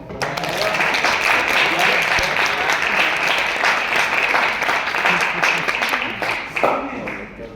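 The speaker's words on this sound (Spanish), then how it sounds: "aplauso para Sharon." A class audience at an anatomy lecture bursts into applause: sustained, dense clapping from many hands, loud and close, lasting several seconds before it thins out near the end.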